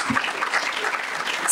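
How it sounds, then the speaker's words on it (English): Applause from an audience at a Teacher's Day 2021 ceremony at KIET Group of Institutions, a dense, even patter of many hands clapping at moderate loudness for under two seconds. "Clapping, please."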